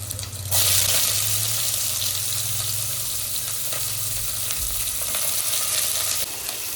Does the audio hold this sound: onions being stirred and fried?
yes